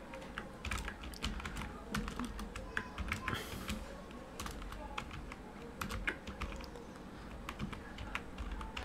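Typing on a computer keyboard, with quick irregular key clicks and taps close to the microphone, continuing steadily throughout over a low background hum.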